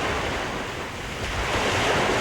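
Rolling sea waves in the Gulf of Alaska wash and surge steadily around a sailing cruise ship, a broad continuous roar mixed with wind noise, building slightly toward the end.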